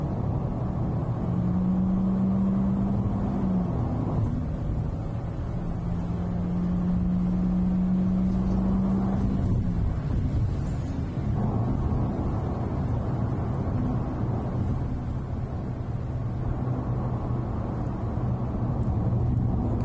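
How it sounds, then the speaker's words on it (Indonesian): A 2020 Toyota Corolla Altis 1.8 G accelerating under throttle on the road, a steady engine drone with a rising tone held for several seconds, then easing, under continuous road and wind noise. "Oke, kita coba injek gasnya."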